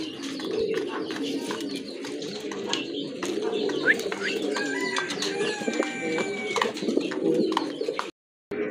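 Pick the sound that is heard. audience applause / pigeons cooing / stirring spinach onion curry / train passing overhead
pigeons cooing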